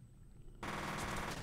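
Rapid automatic gunfire from a weapon in the video game F.E.A.R., starting abruptly after a quiet moment and continuing as a dense, loud, sustained burst to the end.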